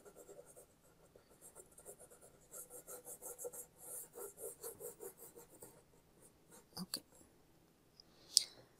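A kneaded eraser rubs excess graphite off watercolour paper in soft, close, rhythmic scrubbing strokes, pausing near the end and then ending with a couple of faint clicks.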